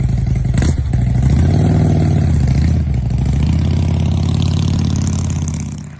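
Custom Harley-Davidson motorcycle engine idling loud and close with a deep, steady throb, swelling slightly as if revving, then tapering off at the end.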